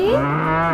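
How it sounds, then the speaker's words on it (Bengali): A cow and calf low in one short, loud, close moo that rises and then holds a steady drawn-out tone, with no other sound around it. "গরু বাছুর"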